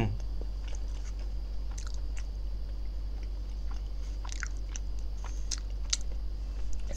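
Someone chews a Haldiram's Hari bhog sweet, soft biting and chewing sounds repeating irregularly up close over a low steady background hum.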